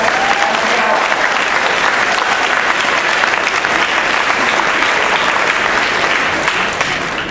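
Sustained applause for a school superintendent at a 50th anniversary gathering, a steady dense wash of clapping from a crowd that holds at a constant level throughout.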